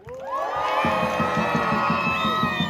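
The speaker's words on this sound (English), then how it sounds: "Can we have a round of applause for the Cardiff University Palestinian Solidarity Society?" At a pro-Palestine street march in Cardiff, a crowd of protesters cheers and shouts in loud high whoops. A steady rhythmic drum-like beat starts partway in and carries under the sustained yelling.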